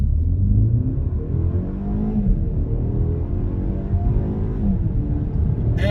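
A 2023 BMW X1 xDrive28i accelerates hard from a standstill, a loud, close engine drone pulling strongly upward in pitch, easing once and then climbing again.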